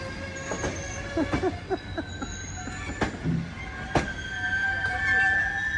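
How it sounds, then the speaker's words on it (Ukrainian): A passenger train pulls into a station, with rhythmic wheel clatter over rail joints, brief squeals and a steady rumble beneath nearby chatter from people waiting on the platform. "Прибув поїзд."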